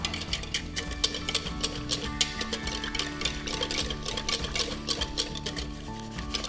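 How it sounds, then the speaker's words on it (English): A whisk mixes a sauce of cornstarch and red pepper flakes in a bowl, a steady rapid scraping and clinking that runs continuously and close, with no one talking. "Grab a whisk, just mix it up."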